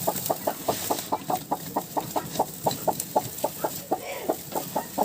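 A broody hen sitting on turkey eggs clucks in a steady, rapid series of short, evenly spaced calls, fairly close, with a faint background hiss.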